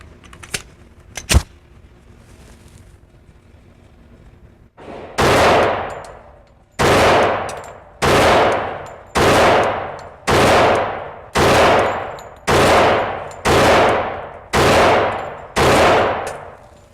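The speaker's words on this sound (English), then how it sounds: "I'm going to fire 10 rounds out of both handguns" Glock Gen 4 Model 21 handgun fired ten times on an outdoor range toward a target at about 15 yards, loud sharp reports at a steady one-per-second rhythm, each with a ringing decay, after a few faint clicks.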